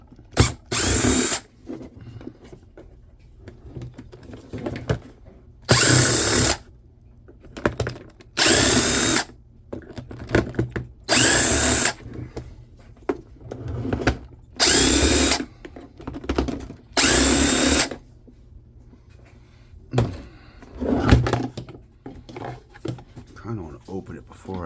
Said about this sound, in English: Pulling these screws out.